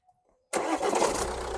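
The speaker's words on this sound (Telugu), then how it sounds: "సింగిల్ సెల్ఫ్లో బండి స్టార్ట్ అవుతుంది, ఎటువంటి స్టార్టింగ్ ట్రబుల్ అయితే లేదు" A 2019 Tata Harrier XZ diesel SUV with 45,000 km starts on a single crank: near silence with faint clicks, then the engine catches abruptly and settles into a loud, steady diesel rumble.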